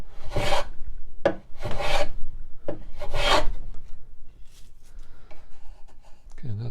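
A hand plane trims a curved wooden drawer for a tool chest, taking thin full-width shavings in three or four crisp, close strokes, each ending in a hiss. Quieter scraping and handling noises follow.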